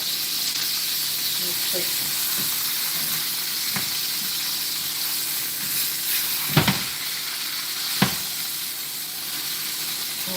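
Steak searing in a pan, a steady loud sizzle and hiss running throughout, with a few clacks and a sharp knock from handling, and a brief spoken phrase over it.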